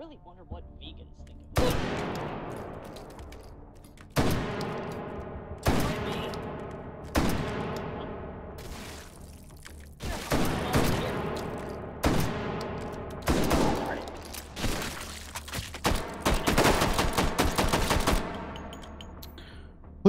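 Loud, close gunfire in the VR shooter Hot Dogs, Horseshoes & Hand Grenades, Take and Hold mode: sharp single shots and rapid bursts repeat across the stretch, each ringing out with a long reverberant tail, the fire growing denser toward the end.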